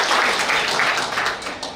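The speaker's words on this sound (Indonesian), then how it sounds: "Oke, berikan tepuk tangan, ya." An audience at a motivational seminar gives dense, steady applause that thins slightly at the end.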